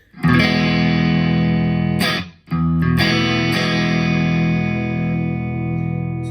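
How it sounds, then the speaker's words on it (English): An electric guitar run through a pedalboard with a dirty boost and no reverb rings out in sustained, distorted chords, loud and alone, with a brief drop in the middle before another chord is struck and held. "I have it set up for a dirty boost"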